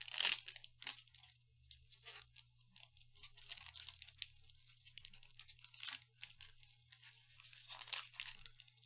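A Phyrexia: All Will Be One set booster pack for Magic: The Gathering is torn open, crinkling and ripping in bursts of crackly foil wrapper noise, close and fairly quiet, with brief pauses between tugs.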